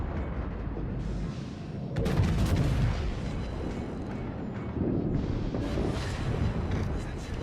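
Warship secondary guns fire in a World of Warships naval battle, a dense run of booming blasts layered over a continuous rumble, loud and close, with brief swells of heavier firing.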